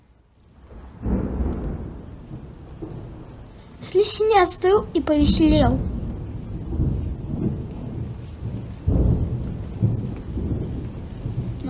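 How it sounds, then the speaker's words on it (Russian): Rain patters under low rumbles of thunder that swell and fade, while a voice speaks briefly in the middle over the storm. "Начался дождик."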